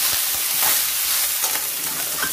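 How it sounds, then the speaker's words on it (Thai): Eggs stir-frying in a pan while glass noodles are prepared, a steady close sizzle with repeated scraping strokes of a spatula, loud and continuous with no talking. "ผัดให้ไข่มันสุกก่อนค่ะ ทำเหมือนผัดผักเลยเนาะ"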